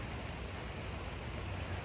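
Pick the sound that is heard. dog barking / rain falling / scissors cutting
rain falling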